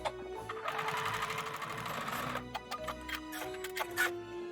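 A sewing machine stitches a quilt block seam in a steady, fast mechanical whir and patter. It runs continuously at close range, then breaks into a few short stops and restarts.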